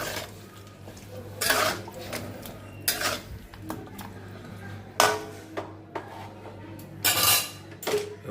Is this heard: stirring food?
yes